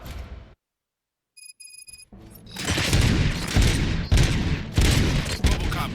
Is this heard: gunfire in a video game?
yes